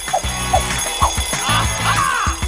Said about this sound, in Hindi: अरे, घंटी बज गई।